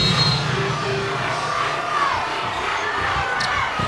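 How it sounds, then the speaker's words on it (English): Basketball arena crowd in Albany roars and cheers on its feet during a Monmouth versus Siena game, a loud continuous wall of yelling and shouting with whistle-like cries rising above it. "Crowd on its feet here in Albany."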